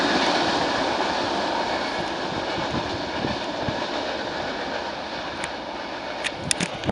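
A train rumbles past on a railway line, its broad steady roar continuous throughout, with a few sharp metallic clicks or squeals near the end.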